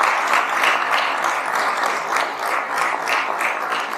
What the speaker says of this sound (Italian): Un applauso va quindi a tutti i volontari.